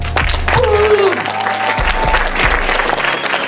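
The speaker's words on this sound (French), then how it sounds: "Applaudissements pour Yannick, s'il vous plaît" A seminar audience applauds for a speaker named Yannick, strong continuous clapping that fills the room for a few seconds.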